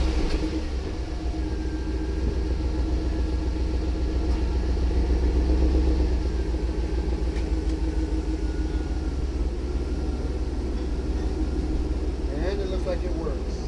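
A 2012 Chevy Avalanche engine runs with a low, steady idling rumble close by, while someone talks over it throughout.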